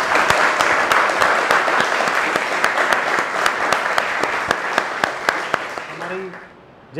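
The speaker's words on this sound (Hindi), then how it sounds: "जोरदार तालियां संतोष सर के लिए।" A room of students at a camera acting class claps loudly and continuously, with a few sharp, close claps standing out, before the applause fades and a voice briefly speaks.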